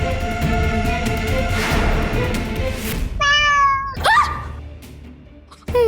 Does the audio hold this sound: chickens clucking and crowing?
no